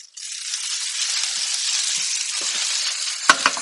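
Gnocchi sear in butter in a pan, giving a loud, even, hissing sizzle close by that holds steady, then a few sharp clatters of the pan at the end.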